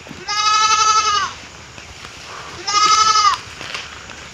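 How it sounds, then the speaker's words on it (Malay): Goats on a Sumatran forest trail bleat twice in quick succession, each call a loud, wavering, nasal cry lasting about a second, the pair separated by a short pause with soft outdoor ambience between them. "Kedua kambing dah."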